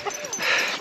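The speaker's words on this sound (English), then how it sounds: "Just stopped to give the dog some water." Sled dog whimpering softly at a rest stop in the Arctic, a short high whine rising and falling over a second, close and fairly quiet.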